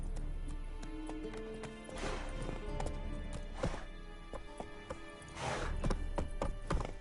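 Roach the horse's hooves trotting in The Witcher 3: Wild Hunt, a brisk, regular clip-clop of hoofbeats up close, with occasional thuds and a snort or whinny mixed in.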